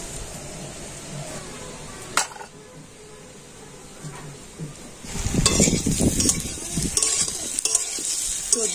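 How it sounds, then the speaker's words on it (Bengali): Potato pieces fry in hot oil in a pan, sizzling softly at first, then louder with scraping stirs and clinks of a spatula against the pan in the second half. "দেখুন আলুটা কিন্তু আমি এই লাল লাল করে ভেজে নিয়েছি"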